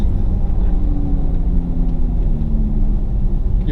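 A 2020 Porsche Taycan Turbo S electric car on the track at Monticello Motor Club, a steady low drone with a rising synthetic whine gliding upward, accompanied by rumble of tires and wind.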